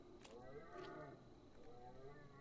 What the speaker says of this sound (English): I'm hearing something. It sounds like a moose.